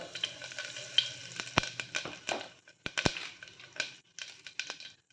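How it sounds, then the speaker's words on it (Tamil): Mustard seeds and a little fenugreek frying in hot oil for a Tamil tamarind-chili side dish, giving a close sizzle broken by sharp, irregular pops and crackles over about five seconds, with no talking. "கடுகு கொஞ்சம் போட்டுக்கலாம் கொஞ்சமாக வெந்தயம் நல்லா பொரியட்டும் கடுகு நல்லா பொரிஞ்சிருச்சு"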